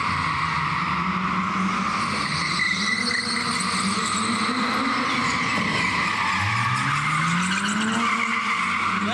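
In an indoor drift hall, a car drifts on three wheels with a continuous, loud tire squeal and skidding screech over a droning engine, rising in pitch toward the end.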